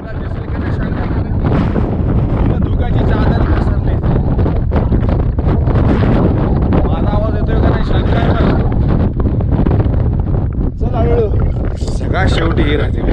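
Strong, gusty wind on a night trek up Kalsubai batters the microphone in a steady heavy roar throughout, with voices talking faintly underneath.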